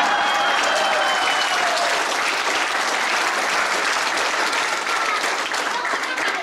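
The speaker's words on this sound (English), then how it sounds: "give yourselves a hand of applause" A congregation at a church retirement program applauds, and the sustained, dense clapping of a large crowd fills the room steadily throughout.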